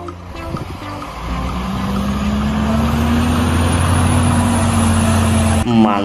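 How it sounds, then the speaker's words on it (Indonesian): A toy concrete mixer truck runs its engine sound, a steady buzzing drone with a slowly rising tone that holds loud and close for several seconds before cutting off. "Widih, lihat teman-teman, ada truk molen."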